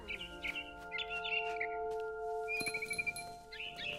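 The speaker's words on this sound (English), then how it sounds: "Then I heard chirping outside my window. It was a barn swallow going back to her nest." A barn swallow chirps and twitters in rapid bright phrases against a steady tonal hum in the background of What Remains of Edith Finch, close and clear, without voices.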